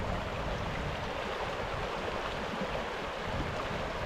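A mountain river in the Patagonian wilderness of Argentina rushes past close by, a dense, unbroken roar of flowing water with no voices.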